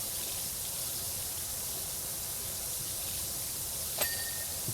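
Steady, loud hissing spray from a pressure washer rinsing surfaces in Powerwash Simulator 2 runs unbroken and close throughout, with one brief high click near the end.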